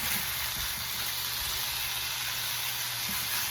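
Sausage sizzling in a hot frying pan while being turned with a spatula, a steady, bright crackling hiss throughout with a few soft low thumps from the spatula, close and continuous.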